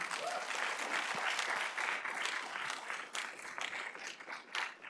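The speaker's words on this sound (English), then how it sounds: "Everybody give yourselves a round of applause" A live audience gives a sustained round of applause, dense crowd clapping that holds steady for several seconds before thinning slightly near the end.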